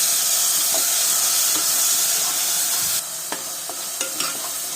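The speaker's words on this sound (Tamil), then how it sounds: "இஞ்சி பூண்டு பச்சை வாடை போகிற வரைக்கும் வதக்கிக்கலாம்." Ginger garlic paste sautés in coconut oil with a steady, loud broadband sizzle. From about the three-second mark the sizzle quietens, and scattered clicks and scrapes come through as the paste is stirred.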